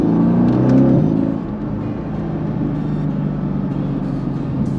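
A 2018 Mercedes-AMG GT V8 pulls hard while driving, its engine a loud, deep rumbling drone that swells at first, then eases to a steady cabin hum.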